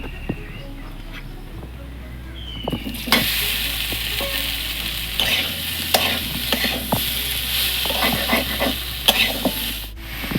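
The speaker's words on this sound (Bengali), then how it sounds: "ঝিঙেটা এবার ভেজে নিচ্ছি" Ridge gourd sizzles steadily in oil while a utensil scrapes and stirs the pan with intermittent clinks and knocks.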